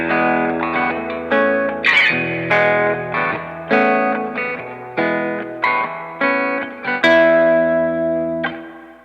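An Epiphone Broadway archtop guitar played through a Strymon Flint pedal set to vintage reverb, ringing out a sequence of strummed chords and single notes, each decaying into a lush, lingering reverb tail, with no talking.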